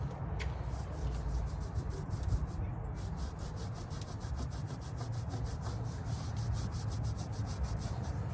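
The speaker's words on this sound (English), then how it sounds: "The thing I gotta do is wipe it clean with a clean cloth" A clean cloth wipes across the cooking surface of a Lone Star Grillz smoker's griddle in a steady, continuous rubbing scrape, close and moderately quiet, with no voices over it.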